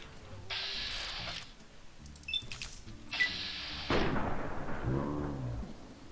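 Gunshots from Fallout: New Vegas, several loud bursts of gunfire with crashing impacts and rumbling tails, broken by short quieter gaps, with scattered game sound effects and no talking.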